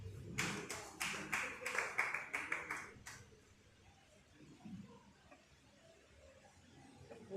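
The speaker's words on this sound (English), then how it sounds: "but clap for her" A small group claps at an end-of-year party for a journalists' union, a quick burst of brisk, uneven hand claps for about three seconds before it stops, leaving quiet room noise with faint murmuring.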